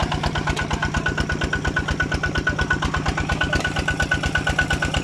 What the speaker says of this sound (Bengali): jetty 155 plus কবুতা engine